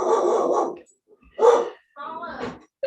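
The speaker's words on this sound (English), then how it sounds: "must you guys bark at the mailman every time?" Several household dogs bark at a passing mailman, three loud bursts of barking close by with short gaps between them.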